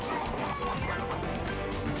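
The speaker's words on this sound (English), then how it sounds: "why are there chickens here?" Chickens cluck faintly in a TV drama scene set in a backyard in Cardiff, heard through a thick wash of background noise.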